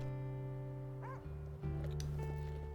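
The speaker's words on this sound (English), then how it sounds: "I hear dogs as well." Dogs bark and whimper in the wolf survival game WolfQuest, with a few short yips rising over a steady low game drone and music bed, no voices.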